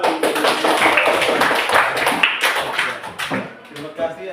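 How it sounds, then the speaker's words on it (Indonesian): A class claps together indoors after a morning prayer, a dense, steady patter of many hands that thins toward the end, with voices mixed in underneath. "Kita tepuk tangan untuk lalu."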